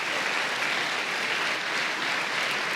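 A congregation at a Spanish-language church service applauds, giving a steady, dense burst of many hands clapping that lasts a few seconds, with no talking over it.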